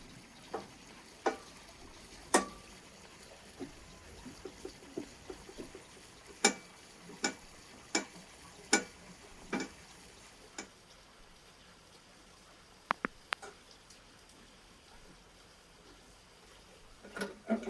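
A homemade sausage machine stuffs beef intestines with meat outdoors in the mountains, giving sharp, irregular clicks and ticks, some loud and some faint, over a quiet background hiss with no speech.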